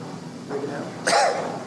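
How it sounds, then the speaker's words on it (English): A single short, rough cough bursts out close by after a softer throat noise, in an otherwise quiet room during a county commissioners court meeting. "You can hear my cough anyway."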